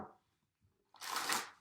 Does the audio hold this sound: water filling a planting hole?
no